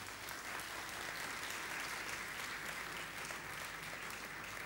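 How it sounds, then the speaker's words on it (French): A church congregation applauds, an even continuous wash of clapping, fairly distant and soft, with no break for nearly five seconds. "Méline, on peut l'applaudir, on peut l'encourager."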